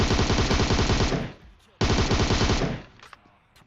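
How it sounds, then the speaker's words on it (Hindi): In PUBG Mobile, two loud close bursts of rapid automatic gunfire rattle off, each lasting about a second with a short pause between, followed by fainter scattered shots. "अब गोलियां इधर तोड़ फोड़ के चल रही है"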